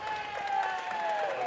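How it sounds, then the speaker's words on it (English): At a boys' high school basketball regional semifinal, a cheering section gives a short burst of sarcastic clapping and a mocking cheer, crowd noise dense and distant under an arena tone. "And the little mock cheer from the sarcastic claps."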